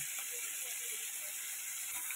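A katla fish head frying in hot oil in a home kitchen gives a soft, steady sizzling hiss, faint and continuous with no other sounds over it.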